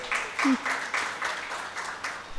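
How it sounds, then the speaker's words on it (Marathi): An indoor audience applauds at a book launch ceremony, a short burst of clapping arriving in pulsing waves that fade toward the end, with a brief voice sound near the start. "सर्वप्रथम यासाठी एकदा जोरदार टाळ्या वाजवूया."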